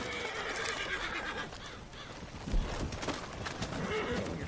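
A horse whinnies loudly over a busy Red Dead Online game soundscape, with hoofbeats clopping and a sharp thump partway through.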